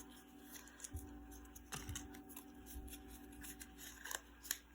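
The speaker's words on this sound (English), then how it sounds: "So I'll just quickly fold these ones." Crisp rustling and creasing of paper craft pieces being folded by hand for a Halloween card-making collection, soft and close with irregular crinkles and taps.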